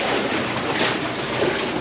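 Sea waves surge and wash inside a low sea cave on a small Greek island, a loud, continuous broadband roar with no clear breaks between swells.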